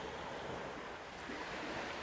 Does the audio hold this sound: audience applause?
no